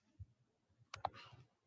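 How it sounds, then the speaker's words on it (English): Sparse, faint keystrokes on a computer keyboard while a Python program is typed, a few soft clicks and then a short quick cluster in a quiet room. "Now I'm typing this program"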